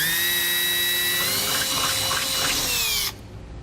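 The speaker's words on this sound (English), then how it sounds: "we'll drill another 1/2 inch hole through the frame" A power drill whines steadily at high pitch as it bores a 1/2 inch hole through a steel vehicle frame for about three seconds, then cuts off, leaving quiet background noise.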